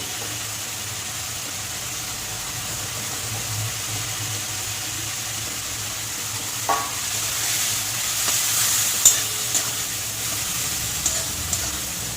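Raw shrimp sizzling steadily in a pan, a soft continuous frying hiss with occasional light clinks and stirring scrapes, moderately close, no voices.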